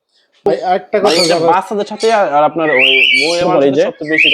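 A green Indian parrot squawks and chatters loudly and continuously at close range, harsh raspy calls running together with a shrill whistle-like note.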